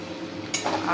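Fish fries in a pan with chillies for a spicy Bengali fish curry, a soft steady sizzle with a brief stirring scrape partway through, close and fairly quiet.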